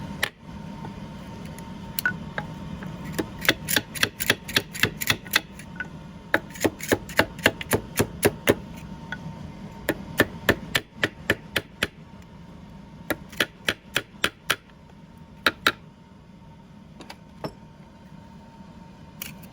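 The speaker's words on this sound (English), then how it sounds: "I'm just going to take my little hammer and I'm just going to tap around the edge of this seal" A small hammer taps around the edge of a seal on a Stihl MS 500i chainsaw, giving many sharp, close metallic clicks in irregular runs and clusters over a faint hum, with no talk.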